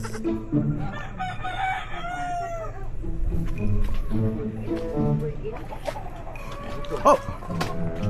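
A rooster crows at a middle distance over a steady bed of nearby chatter and farmyard noise from a farm with carabao, goats and pigs, its call rising and stretching out.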